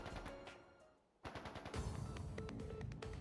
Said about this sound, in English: That sound. Gunfire.